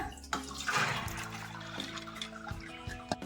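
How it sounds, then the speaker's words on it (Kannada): Water drains from soaked lentils and urad dal tipped into a kitchen strainer while making sambar: a close, short burst of pouring and trickling that settles into lighter dripping, with no speech. "ಈ ಥರ ಸ್ಟೈನರ್ ತಗೊಂಡು ಇವಾಗ ಬೇಳೆಗಳೆಲ್ಲ ಸೋರ ಹಾಕ್ಬಿಡೋಣ."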